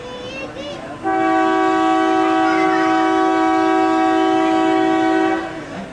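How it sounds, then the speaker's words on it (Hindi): A loud departure horn from an HBU20 locomotive on a mountain shuttle train sounds one sustained blast lasting about four seconds over a low background rumble. "पहला डिपार्चर हॉर्न दे दिया HBU20 ने और चलने ही वाली है गाड़ी हमारी"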